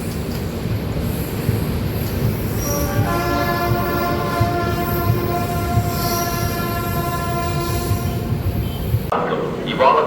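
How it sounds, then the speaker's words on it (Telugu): A Garib Rath Express train departing Tuni railway station rumbles steadily nearby, its long horn sounding partway through, with wheels and carriages rolling on beneath faint background voices. "మన ట్రైన్ అయితే బయలుదేరిందండి తుని రైల్వే స్టేషన్ అండి"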